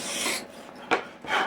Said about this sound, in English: make sure that your sanding block doesn't catch and break any of the ribs as you're going along